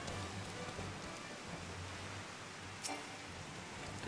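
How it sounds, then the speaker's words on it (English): Heavy rain falls in the online game Final Fantasy XIV, a faint, steady hiss of downpour with a brief soft click partway through. "it's raining an absolute bucket here"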